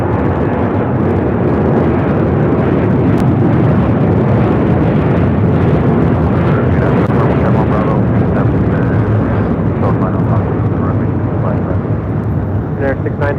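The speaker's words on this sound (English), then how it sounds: "Taking off to Osaka on a 787-9 Dreamliner." Japan Airlines Boeing 787-9 Dreamliner taking off from LAX bound for Osaka, a loud, dense continuous jet engine roar filling the whole span, with voices talking under the noise.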